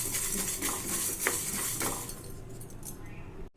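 Coriander seeds and peppercorns are dry-roasted in a pan for rasam powder, a spoon scraping and clinking against the metal with a soft rustle of tumbling seeds, fairly close, easing off toward the end.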